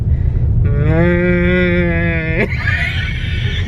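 A person imitates a cow mooing inside a shed, one long loud drawn-out moo with a rising harmonic tone that breaks off into a rough end, close and alone.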